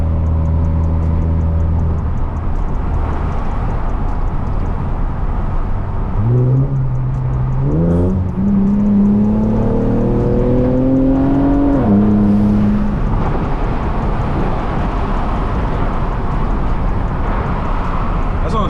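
A bagged Infiniti Q60/Q50 running on 93-octane fuel is pulled hard: a steady, close engine drone climbs in pitch through several gear steps, then settles back into loud road and cabin rumble.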